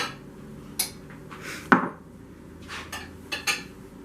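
A big spoon clinks against bowls while a Melk Kos dessert is served, with a few sharp, separate metallic taps spread across a quiet kitchen background, one louder knock standing out in the middle.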